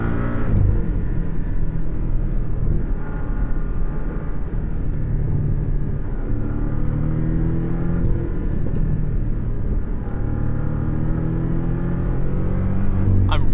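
Alfa Romeo 4C Spider with a turbocharged four-cylinder engine on the move, giving a steady, throaty drone and road rumble heard continuously from close by, with no talking.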